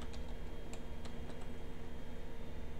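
A password being typed on a computer keyboard, a quick run of light, close key taps over a steady background hum, with no talking.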